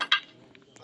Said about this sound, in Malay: Basuh pinggan sendiri, okey?